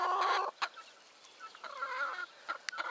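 A laying turkey hen in a stable clucks nearby, a louder call at first followed by softer, intermittent murmuring clucks and small rustles.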